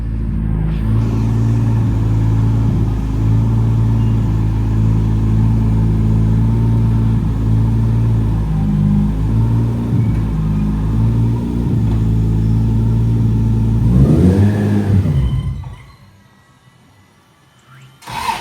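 A BMW E36 engine runs with a steady, throbbing mid-pitched drone and slight shifts in revs, then cuts out near the end, leaving near silence before a faint sound returns.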